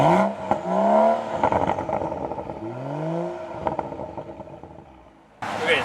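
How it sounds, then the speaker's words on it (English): A 2013 BMW 135is twin-turbo coupe engine revs up and down several times, the exhaust note rising and falling in loud sweeping pitches, then cutting off. "Let's take a look at what the exhaust sounds like."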